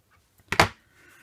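Scissors make one brief, crisp snip through a length of quarter-inch seam binding ribbon, close and isolated in an otherwise quiet room.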